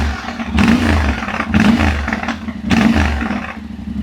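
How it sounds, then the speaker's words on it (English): A 2026 Yamaha Tenere World Raid motorcycle fitted with an Akrapovič exhaust idles close by with a deep, throaty rumble, swelling in three pulsing waves over a few seconds. "just ticking over, much more throaty than the OEM exhaust, so it does give a totally different sound to it"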